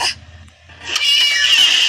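A cat meows loudly and drawn-out inside the Scary Teacher video game, a short game-sound cry rising after a brief quiet pause, heard alone with no talking.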